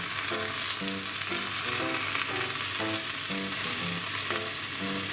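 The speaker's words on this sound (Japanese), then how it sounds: "野菜類がこんだけちょっとしっとりしてきたら、で卵流し入れます" Beaten egg poured into a hot frying pan over scallions and pea shoots, a steady, loud sizzle and crackle of frying throughout, with soft background music and no talk.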